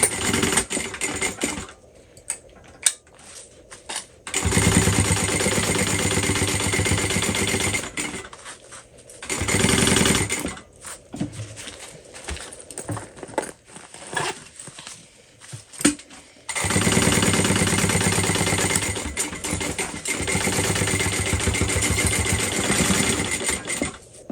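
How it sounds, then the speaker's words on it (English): Sewing machine stitching a seam on a crossbody bag at full seam allowance, loud buzzing runs of stitching in three long bursts separated by quiet pauses and small clicks. "I'm sewing this at my full seam allowance"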